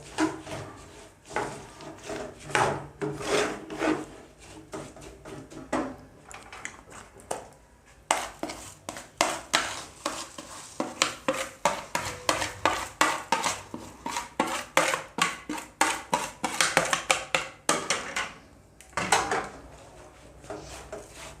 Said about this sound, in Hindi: इसको आपने ज़रा जल्दी से शेक करना है ताकि ये मूंगफली और तिल और ये जो गुड़ है ये ताकि अच्छी तरह आपस में